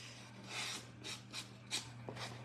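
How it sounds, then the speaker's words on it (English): A sanding block rubbed over the frayed edges of a paper card, heard as a few soft, faint rasping strokes in a steady rhythm over a low background hum. "I'm going to sand these down."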